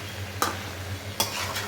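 Meat sizzles steadily in a frying pan while a utensil stirs it, with two sharp scraping strokes cutting through the constant frying hiss, close up and with no voices.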